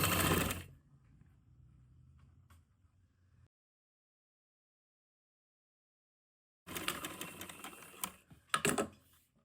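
A sewing machine stitching lace onto a lawn or cotton suit, a short burst of mechanical running at the start, then a quiet gap, then another busier stretch of stitching with sharp clacks near the end.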